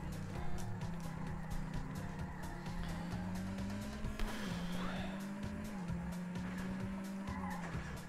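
A car skids and its tires squeal in the racing video game Trackmania Sunrise. A sustained engine drone shifts pitch over a steady scraping hiss, moderately loud and continuous.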